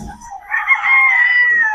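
A Boston Roundhead rooster crows once at close range, a drawn-out call after a brief lead-in, among penned chickens.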